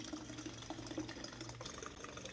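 Fluid rushes steadily through a freshly purged water-methanol injection line on a BMW N55 engine, a continuous close hiss with a brief shift in tone partway through, no talking.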